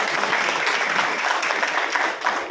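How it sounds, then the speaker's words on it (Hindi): A hall audience at a college event welcomes a senior police officer with loud, dense applause, a continuous roar of many hands clapping close by. "अनुरोध करता हूं कि जोरदार तालियों से उनका स्वागत किया जाए"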